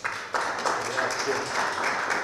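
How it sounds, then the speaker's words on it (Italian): Moderate applause from the audience at an Italian book presentation, spread across a short stretch of clapping whose level rises and falls slightly as it continues. "a cui rivolgerei un grandissimo applauso"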